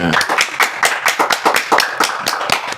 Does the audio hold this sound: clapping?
yes